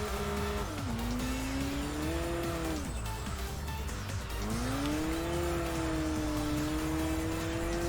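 A Saab 9-5 Aero in the racing game Enthusia slides under handbrake, its engine droning steadily and rising and falling in pitch, with tyre squeal running through nearly continuously.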